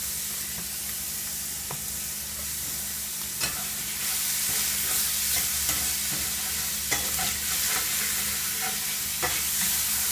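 Ground beef frying in a pan, seasoned with garlic, salt and pepper, gives a steady close sizzle with scattered crackles and occasional scraping stirs, alone with no talking.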